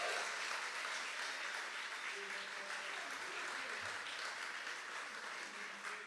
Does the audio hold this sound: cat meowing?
no